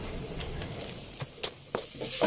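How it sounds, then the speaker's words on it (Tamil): Masala with garam masala sizzles and fries in a pan while being stirred for egg rice, a steady close hiss broken by a few scraping spoon strokes. "நாம் சேர்த்துருக்கிற எல்லா மசாலையோட பச்சை வாசனை போகிற அளவில் நல்லா வதக்கி எடுத்துக்கோங்க"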